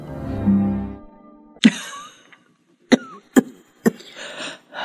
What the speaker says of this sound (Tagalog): Lumalala yata ang ubo mo